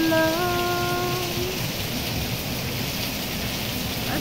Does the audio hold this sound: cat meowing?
no